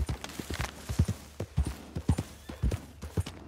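Horse hooves clip-clop in Red Dead Redemption 2, a close, fairly loud series of irregular hoofbeats at a walking pace over a low background hum, with no talking.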